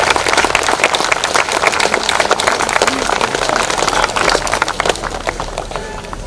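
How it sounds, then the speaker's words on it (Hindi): Dense, loud applause from an audience at a district conference gathering, steady crowd clapping throughout and tapering slightly at the end, with no talk over it. "जोरदार तालियां बजाएं"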